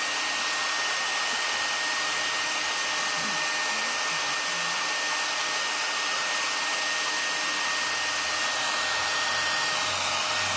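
A hair dryer blows steadily on a napkin decoupage piece made on MDF, a constant loud broadband whoosh with a faint motor whine that runs unbroken and close by for the whole stretch.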